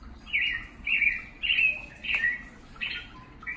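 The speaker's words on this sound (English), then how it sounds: "This is an American robin." An American robin's song played through a Google Assistant smart speaker: five short, bright warbled phrases in an even rhythm, clear and close, with no talking.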